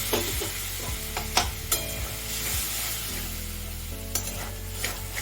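Soya keema sautés and is stirred in a pan, a continuous close sizzle broken by repeated scraping strokes and a few sharp clicks of the spoon against the metal.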